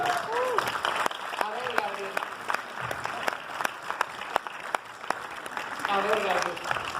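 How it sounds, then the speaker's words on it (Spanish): Scattered audience clapping for Gabriel on a TV entertainment show, sharp individual claps spread through several seconds beneath ongoing talk and laughter. "Un aplauso también para Gabriel"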